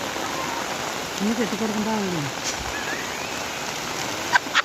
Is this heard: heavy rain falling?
yes